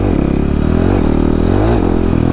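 A stunt motorcycle's engine is revved gently with little throttle, a loud close mechanical drone that rises and falls in a few soft surges without any speech.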